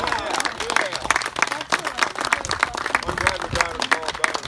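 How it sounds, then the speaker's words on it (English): A gathering at a monument dedication claps for the trustees, with dense applause running throughout, cheering voices and chatter mixed in. "Another round of applause for the trustees and everybody"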